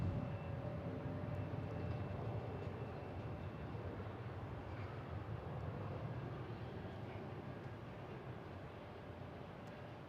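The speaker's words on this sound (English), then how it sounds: "we have that Delta taking off to Orlando" A Delta airliner takes off from Boston Logan bound for Orlando, its jet engines making a steady, broad roar heard from a distance that fades slowly over the span.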